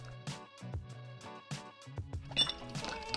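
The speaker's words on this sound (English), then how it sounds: "in our serving glasses, we do want to add a few more ice cubes" Several hard clinks and clatters ring out in quick succession as ice cubes drop into serving glasses for iced pour-over coffee, close and fairly quiet.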